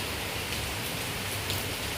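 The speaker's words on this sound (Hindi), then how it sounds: "आपको यहाँ पे कितनी तेज़ बारिश हो रही है" Heavy rain pours steadily in early September over a home garden near a guava tree, a dense, continuous hiss with no pauses, close and fairly loud throughout.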